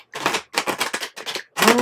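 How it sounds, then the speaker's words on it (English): A deck of tarot-style cards being shuffled by hand, four quick riffling bursts of papery clatter separated by short pauses, close and clear. "going to give it one more shuffle"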